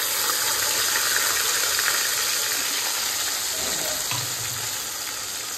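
A paste of tomato, onion and garlic fries in a pan tempered with black cumin, giving a steady moderate sizzle with faint scraping and stirring sounds near the end.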